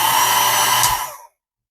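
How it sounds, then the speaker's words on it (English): A heat gun used while fitting Talon grips to a Glock 19 blows with a loud, close, steady rushing whir, then shuts off and winds down to silence within about a second. "I'm going to turn on the heat gun and might mess up the sound."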